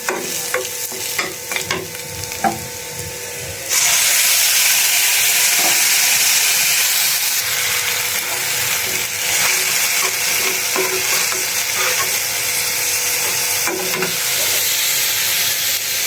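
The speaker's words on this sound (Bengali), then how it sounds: "পেস্টটা একবার ভাজা ভাজা হয়েছে লাল লাল।" Loud, steady sizzling starts suddenly as spice paste hits hot oil, a continuous hiss with stirring scrapes, after a few quieter clinks.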